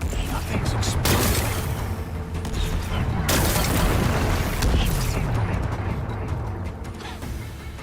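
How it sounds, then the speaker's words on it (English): Rock-blasting explosions in the video game Horizon Forbidden West, a loud, sustained rumble of booms and crackling debris that swells twice and fades slightly, with no one talking. "Gotta blast away some rocks, so I can expose the power cell."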